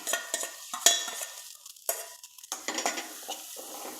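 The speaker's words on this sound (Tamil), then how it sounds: "இப்போ நம்ம பெரிய வெங்காயமும் கருவேப்பிலையும் போட்டுடலாம்." Chopped large onion and curry leaves stirred in a hot pan for a barley vegetable soup, close soft sizzling broken by repeated scraping strokes of a spoon against the metal.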